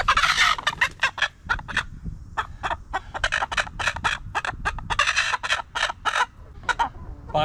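Chickens on a homestead give loud, rapid, choppy clucks and gobbling calls in quick bursts, close to the listener and nearly continuous with short pauses, with no talking over them.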